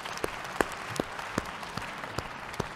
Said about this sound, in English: Please give a round of applause to Chushu there.